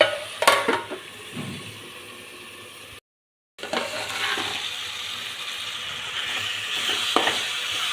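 A tomato chutney mixture is stirred in a pan with soft scraping and a continuous sizzle, with a few sharper clinks early on and a brief dead-silent break partway through.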